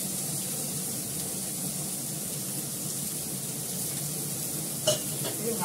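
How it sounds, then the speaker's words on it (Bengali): Onions, carrots and other vegetables sizzle and fry steadily in a pan for chowmein, a close, constant crackle with one brief clink of a utensil near the end. "এটা আমি হালকা করে ভেজে নেব পেঁয়াজটাকে"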